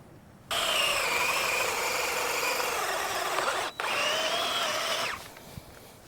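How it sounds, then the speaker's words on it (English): A failing power drill whines loudly and steadily, cuts out for a split second, whirs again, and then stops, leaving quiet room tone on a small greenhouse build. "My drill just crapped out."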